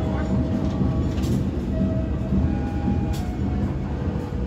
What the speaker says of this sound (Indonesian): Kereta diberangkatkan dari stasiun Cikadongdong.